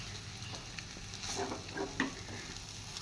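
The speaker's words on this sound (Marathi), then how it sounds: "छानपैकी असे परतून घेऊया हा मसाला" A spiced potato stuffing for vada pav sizzles steadily in a pan as it is sautéed, with faint scrapes of stirring over a constant low frying hiss.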